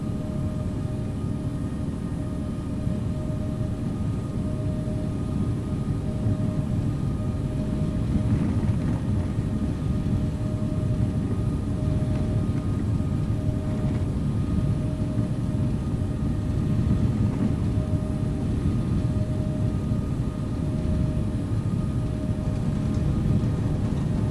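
A plane taking off from runway 4 produces a sustained, loud broadband jet roar with a steady drone, continuous for the whole stretch and with no speech over it.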